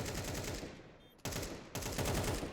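Rapid automatic gunfire in Counter-Strike 2, a dense rattling burst that drops out briefly near the middle, then resumes loud and continuous to the end.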